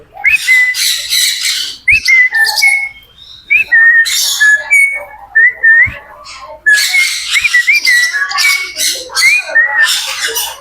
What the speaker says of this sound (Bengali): দেখতে পালেন ও কিন্তু চমৎকার শীষ বাজায়